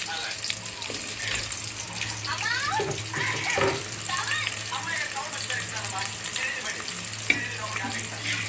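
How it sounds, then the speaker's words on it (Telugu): Thinly sliced onions hiss and crackle in hot oil in a home kitchen with a steady close sizzle, while people talk in the background and a low hum runs underneath. "ఆయిల్ హీట్ ఎక్కిన తర్వాత ఆనియన్స్ వేసుకున్నాం సన్నగా నైస్గా జరిగిన ఆనియన్స్"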